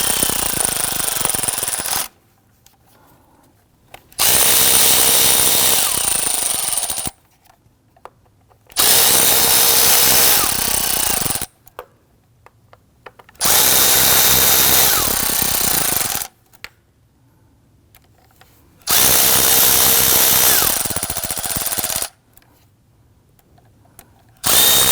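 Power tool snugging Torx screws on a 2009-2017 Volvo XC60 3.2L inline-six valve cover, running in five loud sustained bursts of about three seconds each, separated by quiet gaps.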